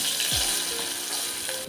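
Onion hits a hot tempering of cumin, asafoetida and curry leaves in a pan, giving a soft continuous sizzle with light stirring scrapes over a short stretch.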